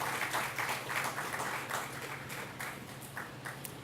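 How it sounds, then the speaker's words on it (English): An audience at a housing distribution ceremony in Carina Gardens, Arima, applauds with a full, continuous wash of clapping that fades slightly toward the end. "Ladies and gentlemen, another wonderful applause for the Land Settlement Agency."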